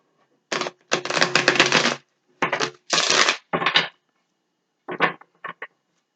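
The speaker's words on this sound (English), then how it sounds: "let's give them a shuffle" Tarot cards are shuffled in several quick riffling bursts, a long run followed by shorter ones, with pauses between and no talking.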